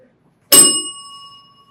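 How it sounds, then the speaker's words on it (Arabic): A quiz contestant strikes the answer bell once, a sharp bright ding that rings out and decays over about a second in an otherwise quiet room. "انا متاكد ان في حد هيضرب الجرس دلوقتي"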